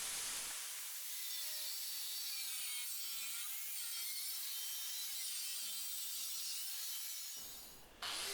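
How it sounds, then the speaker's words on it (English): Angle grinder fitted with a thin cut-off disc slicing through stainless steel plate in a home shed workshop, a loud continuous high-pitched grinding whine holding steady for about seven seconds before cutting off. "cutting out the basic outline with the cut-off disc on the angle grinder"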